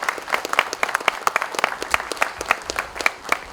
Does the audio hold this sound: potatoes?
no